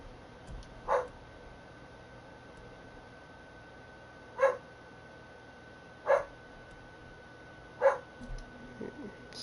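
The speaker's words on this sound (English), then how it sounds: "But she always barking for no reason." A dog indoors gives four single barks a couple of seconds apart. Each is brief and moderately loud, over a low steady hum of game background sound.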